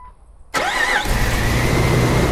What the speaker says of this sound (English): it should crank right up